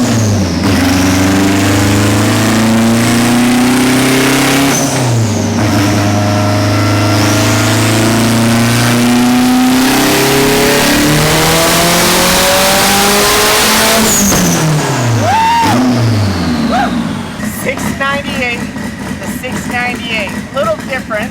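A Dodge SRT drag car with boost revs hard on a dyno, its loud engine climbing through the gears with repeated rising pitch sweeps, then dropping away into a rattling idle as people talk nearby.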